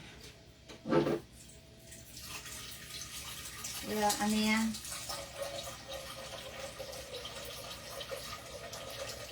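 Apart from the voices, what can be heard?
water filling a cooking pot from a tap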